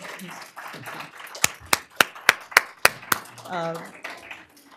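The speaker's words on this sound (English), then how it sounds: "can we just give another round of applause to our presenters" A brief round of clapping for panel presenters at an academic talk on cultural activism, with several sharp distinct claps standing out amid speech and murmuring voices.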